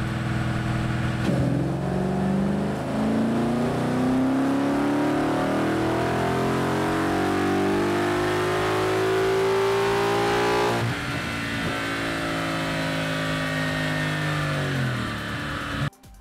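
A Ford F100 pickup with a swapped-in Coyote V8 makes a chassis dyno pull. The engine sounds loud and close as it climbs steadily in pitch for about ten seconds, then drops off and winds down.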